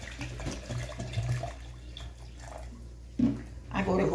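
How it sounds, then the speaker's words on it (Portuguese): Water poured into a blender or container for pink lemon juice, a short splashing trickle with intermittent pours, heard softly under someone talking. "Aqui tem água, eu vou colocar."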